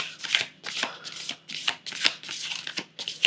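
Tarot cards that feel sticky are shuffled and handled close up, giving repeated riffling flutters and soft slaps in quick uneven bursts, with no talking during the shuffling.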